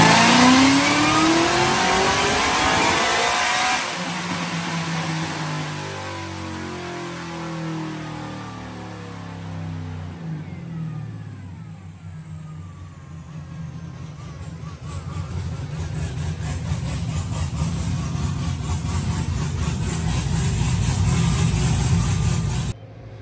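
A Cadillac CTS-V with a Kong Stage X LSA supercharger on a dyno run: a loud engine revving hard, then dropping to a lower rumbling drone that builds steadily again, with no voices.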